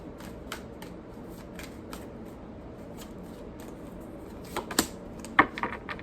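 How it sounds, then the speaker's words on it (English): Tarot cards being shuffled close up, a series of soft rapid riffling taps and flicks, growing into sharper card snaps near the end. "So let's get some tarot cards."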